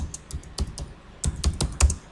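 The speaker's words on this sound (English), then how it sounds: "So here I'll be typing the problem definition" Keys clatter on a computer keyboard as a C program is typed, in short irregular bursts of close, crisp clicks with brief pauses, growing louder and denser toward the end.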